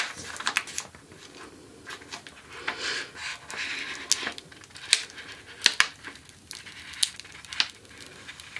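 Cricut stencil vinyl being peeled slowly off its backing, a series of soft irregular crackling ticks and light tearing sounds, close and fairly quiet, with no talking.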